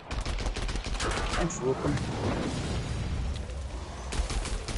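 Rapid gunfire crackles through a Killing Floor 2 match, bursts overlapping in a dense, continuous barrage while a player talks briefly over the shooting.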